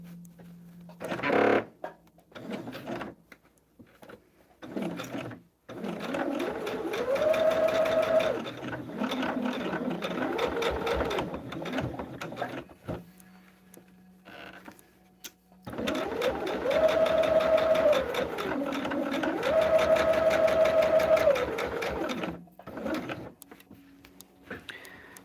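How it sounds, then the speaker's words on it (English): A sewing machine stitching quilt fabric runs in two long bursts of rapid mechanical whirring with a rising and falling motor pitch, separated by quiet pauses and small clicks, close and moderately loud. "Let's get this sewn."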